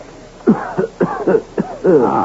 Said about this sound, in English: And I have been conscious of your heavy cough.